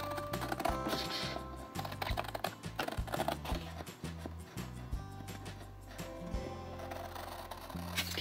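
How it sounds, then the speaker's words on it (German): Sharp scissors snip through paper card along a ruled line for a handmade pop-up wedding or birthday card: quick, crisp cuts in an irregular rhythm, close by, over steady background music. "Mit einer scharfen Schere schneide ich jetzt hier ganz vorsichtig entlang der Linie."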